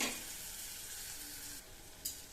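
Oyster mushrooms sautéing in a pan with a tomato mixture, giving a soft continuous sizzle and hiss with one brief clink near the end, fairly faint and without voices.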